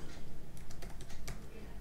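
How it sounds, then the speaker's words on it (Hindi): Quick, continuous typing on a computer keyboard, with close, light key clicks in a busy, even patter. "तो इसको हम टाइप कर लेते हैं"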